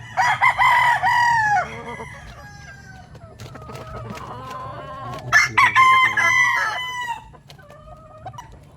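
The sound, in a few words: rooster (broodstag) crowing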